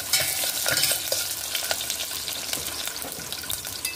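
Cumin and mustard seeds frying in hot oil in a tempering pan for Andhra-style pappu charu: a steady bright sizzle with crackles and pops, close and continuous, no talking.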